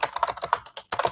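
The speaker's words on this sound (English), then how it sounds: "this keyboard's amazing. It's so satisfying to listen to." Fast clacking keystrokes on a computer keyboard, crisp and close, with a short pause near the end before typing resumes, no voices.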